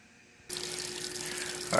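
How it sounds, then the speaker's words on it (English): Water gushes steadily from a Haier XQBM22-C compact portable washer as it dumps water before the final rinse, a continuous close rushing flow that starts abruptly after a quiet moment and holds without talk. "it's dumping water back for the rinsing final"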